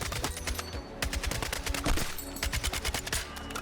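Gunfire in the Battlefield 6 video game: rapid, loud automatic shots in quick successive bursts, close and alone.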